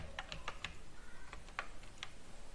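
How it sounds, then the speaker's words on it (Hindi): Quick, quiet keystrokes on a computer keyboard come in a short burst followed by a few scattered taps, close by with no talking. "और यहां पे हम लिखेंगे अलेक्सा,"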